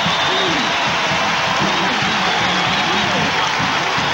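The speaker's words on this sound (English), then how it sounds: "listen to the crowd now trying to bolster this UCLA defense" A stadium crowd at a 1988 UCLA versus Stanford college football game roars steadily for the UCLA defense, a broad, dense, sustained wash of cheering with a voice faintly over it.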